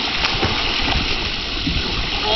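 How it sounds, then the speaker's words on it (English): A dog swims in a backyard pool, giving close, continuous sloshing and splashing water with small bursts of splatter and no voices over it. "Let Tom take a swim"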